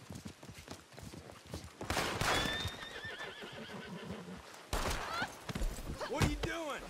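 A horse in a video game neighs loudly with a shrill, wavering whinny, then clops along on its hooves, with a second whinny near the end and a person talking over parts of it.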